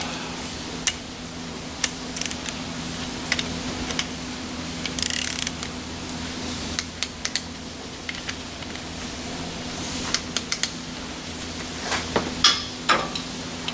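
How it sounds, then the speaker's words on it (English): Torque wrench tightening rod cap bolts on an AMC 304 V8 during bottom-end assembly: a series of sharp metallic clicks and ratchet ticks scattered across the span over a steady low workshop hum, with no voices. "Torque our rod cap bolts."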